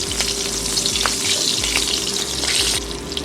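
Slit green chillies sizzle in hot oil in a wok, giving a continuous loud frying hiss with small pops and crackles throughout, without any voices.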